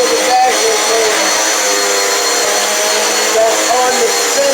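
A Dirt Devil Power Max XL vacuum cleaner runs close by with a continuous loud motor whine and airy rush that holds steady throughout.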